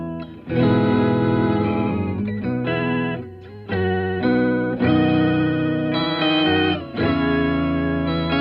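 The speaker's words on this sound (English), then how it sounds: "from a very slow vibrato Hammond organ" Hammond organ tone run through an Asheville Music Tools ACV-NOS Leslie-style effect set to slow vibrato, playing sustained chords with a gently wavering, chorused shimmer, loud and close, with brief gaps between phrases.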